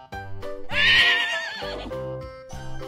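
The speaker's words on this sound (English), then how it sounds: "Horse." Cartoon horse in a children's counting cartoon giving one loud, close whinny with a rising and falling pitch, set against bright backing music.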